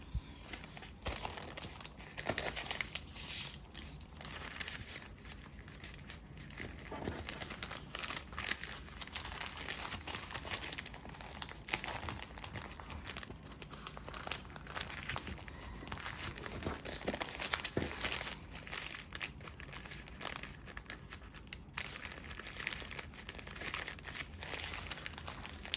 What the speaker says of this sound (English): I'm going to stack and fold all of the trimmed bags into this final bag with a flap